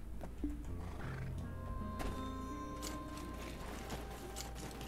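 A horse in the Black Desert Online video game whinnies loudly and clearly over a steady in-game background hum, with a few hoof clops and light clicks around it.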